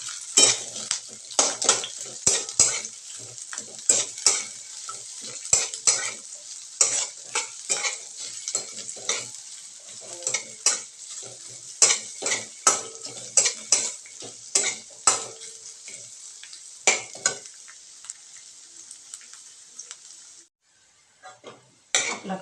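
Thinly sliced onion fries in a pan for sukha mutton, its steady sizzle punctuated by frequent sharp scrapes and clinks of a spatula stirring against the metal, then the stirring stops and the sizzle continues briefly.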